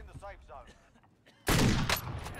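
Burst of gunfire in the Call of Duty Warzone video game, a loud, dense volley that erupts abruptly after quieter speech and ambient game sound, continuing with rattling shots.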